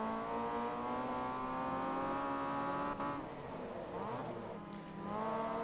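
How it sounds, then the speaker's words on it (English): A two-liter Mazda race car in the Forza Motorsport 2 video game accelerates up a hill in fifth gear, its engine holding a steady, sustained drone with a slight dip in pitch midway before climbing again. "Engine accelerated up the hill without any issues"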